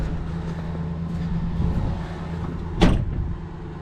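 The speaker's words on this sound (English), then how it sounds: "door shuts." A Ford Ranger pickup's door slams shut with one solid thud over the steady idle of its engine, close by, with no talk.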